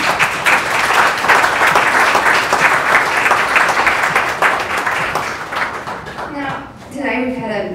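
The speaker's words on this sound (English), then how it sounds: "give them a round of applause" An audience applauds panellists at an International Women's Day event on sport and business, a dense, steady wash of clapping that thins out near the end as a voice begins speaking.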